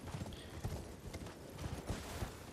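A horse gallops in the video game Elden Ring, steady clip-clop hoofbeats in quick rhythm at moderate, even loudness, with no one talking.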